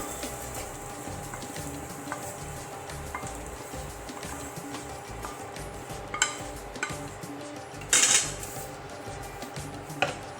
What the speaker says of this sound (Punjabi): ਮੈਂ ਭੁਰਜੀ ਨੂੰ ਪਲੇਟ ਵਿੱਚ ਕੱਢ ਲਵਾਂਗੀ